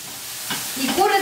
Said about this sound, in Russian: И коротко обжариваем